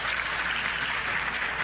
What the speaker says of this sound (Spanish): Y me conmueve que me aplaudan